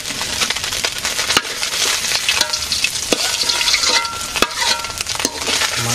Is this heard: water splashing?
no